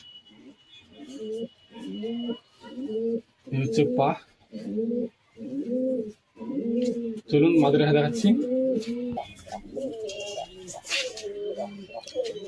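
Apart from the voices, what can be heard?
pigeons cooing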